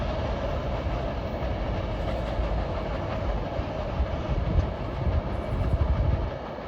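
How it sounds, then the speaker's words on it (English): A short Norfolk Southern freight train hauled by GE GEVO ES44 locomotives rolls past on the Pittsburgh Line, a steady, close rumble of wheels and cars with faint rhythmic clatter over rail joints throughout. "Short train had a solid set of GEVOs, 2 ACs, and in the middle were 2 DCs"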